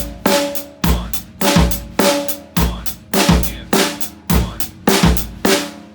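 A drum groove repeats about ten times: a bass drum thump on beat one and the e of two, with snare hits on two and three and cymbal wash over the top. A voice counts softly along.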